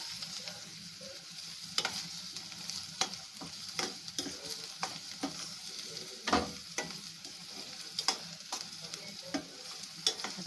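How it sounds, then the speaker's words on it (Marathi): Spices roast in a pan for a prawn curry, a soft continuous sizzle broken by regular scraping knocks of a spoon stirring against the metal, close and fairly quiet, with no voices. "आता आपण ते मसाले भाजून घेऊया"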